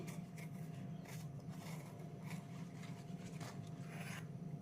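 Veins being stripped from washed taro leaves by hand, soft quiet rasping and rubbing tears repeating at an even pace over a low background hum.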